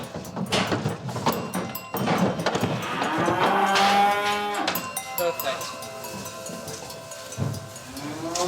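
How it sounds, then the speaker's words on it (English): Highland and Galloway cattle moo repeatedly in a farm herd with young calves, a series of loud, drawn-out calls alongside a brief spoken word. "We've got some young calves, we've got some Highlands, we've got some Galloways."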